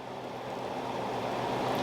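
Candy syrup bubbles in a pan as it heats toward a rolling boil, a close, steady, hissing simmer that swells slightly over a couple of seconds.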